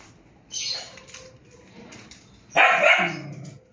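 Two short dog barks, one small and then a louder one a couple of seconds later, fairly close with quiet between.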